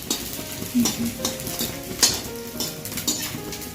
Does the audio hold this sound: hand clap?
no